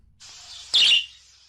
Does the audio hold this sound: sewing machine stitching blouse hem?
no